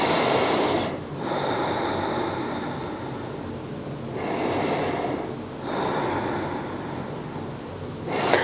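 Slow, deep breaths during a beginner yoga flow, each long airy inhale and exhale clearly audible and close, three breath cycles with short pauses between, no talking.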